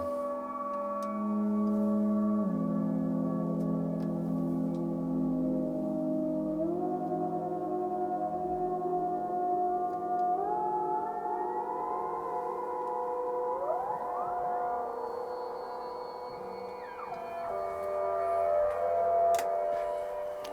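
A modular synthesizer patch drenched in reverb plays sustained, gliding tones that step and bend in pitch, with chirping upward sweeps and a washy tail, moderately quiet and without voices.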